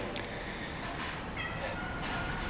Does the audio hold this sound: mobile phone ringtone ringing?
no